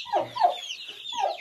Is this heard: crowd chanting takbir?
no